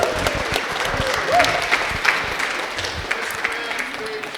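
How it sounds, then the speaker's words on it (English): A wedding crowd claps steadily in sustained applause, with a few faint voices mixed in. "Now, ladies and gentlemen, let's give Roland another big round of applause."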